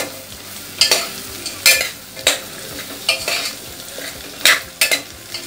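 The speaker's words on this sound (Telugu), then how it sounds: "ఇవన్నీ వేసేసుకోండి వేసుకొని ఒక్కసారి కొంచెం అంత కింద నుంచి కలిపేయండి" Carrot, potato and capsicum are stirred in a pan for vegetable pulao, with repeated loud scraping strokes of a spoon against the metal over a low sizzle and no talking.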